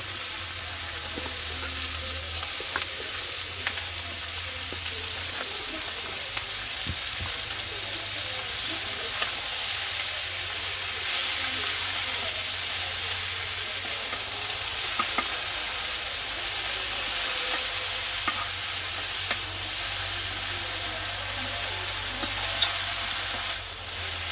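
Finely chopped cabbage fries with koi fish in a pan, a steady, dense sizzle and hiss that runs unbroken throughout, close and loud, with faint stirring scrapes and no speech.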